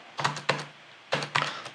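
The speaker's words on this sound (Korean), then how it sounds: "키보드" A computer keyboard Tab key is pressed in a few quick taps, two clusters of crisp plastic clicks separated by a short pause, close and fairly quiet.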